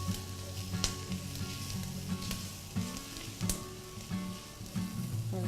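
Onion cooking with curry in a pan, a continuous close sizzle and frying crackle with occasional sharp pops and light stirring clinks, no voices.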